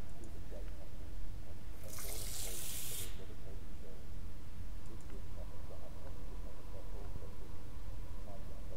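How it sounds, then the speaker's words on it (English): Water runs from a tap in the sci-fi horror game Stasis, a steady broadband hiss that swells for about a second in the middle before settling back under a low droning game ambience. "Flowing water."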